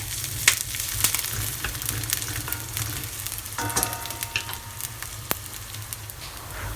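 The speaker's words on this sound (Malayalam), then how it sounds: "ഇവിടെ നമ്മുടെ ഉള്ളിയൊക്കെ തളിച്ച് ഒന്ന് ചെറിയ ഗോൾഡൻ കളർ ആയിട്ടുണ്ട്" Red shallots (small onions) sizzle and fry steadily in a pan, cooked to light golden for a Kerala coconut fish curry, with occasional sharper crackles and pops over a constant frying hiss and no voices.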